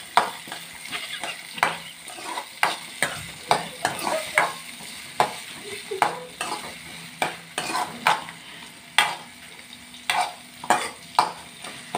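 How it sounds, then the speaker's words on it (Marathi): Onion, dried red chillies and curry leaves fry in a pan for mung bean bhaji while a spoon stirs them, a soft sizzle broken by a dozen or so sharp, rhythmic scrapes and taps against the pan. "लाल जरा कांदा छान लाल होईपर्यंत फिरवत राहायचं."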